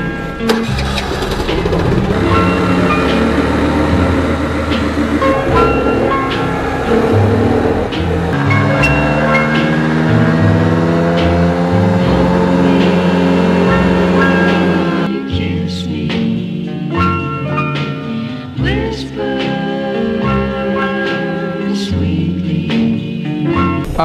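A Piaggio 80cc moped engine with a tuned CDI revs hard, a buzzing two-stroke whine climbing and falling in pitch, then dropping to a rough, uneven idle near the mic.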